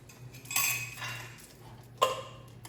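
A spoon scrapes and clinks against a pot while sour cream and chili enchilada sauce are stirred together, with a few distinct metallic knocks over a low steady hum.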